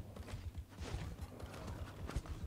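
A horse mount's hooves clip-clop in the video game Paladins, a quiet, fairly regular trot of low thuds that runs through the clip.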